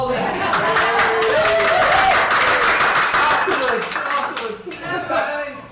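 Small meeting audience clapping in a sustained burst, mixed with chuckles and overlapping chatter, tapering toward the end as a voice speaks.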